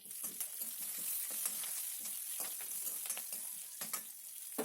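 Curry leaves crackling in hot oil on a low flame, a quiet continuous fizz dotted with rapid small pops and stirring scrapes.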